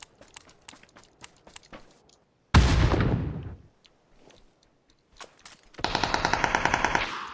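Gunfire in a shooting video game: scattered single shots and footsteps, then a loud burst of automatic fire, a pause, and a second rapid machine-gun burst near the end.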